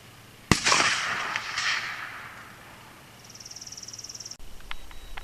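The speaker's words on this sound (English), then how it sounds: "This is to shoot a shot to get dirt out of that bore." A single sharp rifle shot fired to clear dirt from the bore cracks out loud and close, with its echo rolling away over a couple of seconds, then quiet outdoor ambience with faint insect buzzing.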